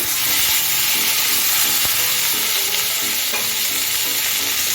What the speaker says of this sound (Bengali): এখন কারি পাতা দিয়ে দিচ্ছি কারি পাতাটাকে একটু ভেজে নিচ্ছি